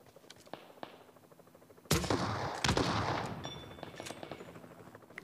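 Gunfire in the mobile battle-royale game PUBG Mobile: a few sharp scattered shots, then two loud close bursts of automatic fire with echoing tails, followed by fainter distant pops.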